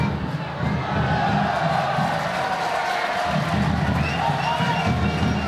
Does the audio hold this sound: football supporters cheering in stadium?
yes